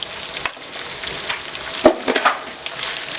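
Jalapenos and onions frying in a pan with bacon and chorizo for frijoles charros, a steady soft sizzle with a few sharper stirring clacks and crackles near the middle.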